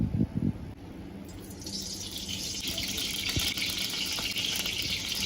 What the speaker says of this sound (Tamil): நம்ம நெய் ஊற்றிக்கலாம்.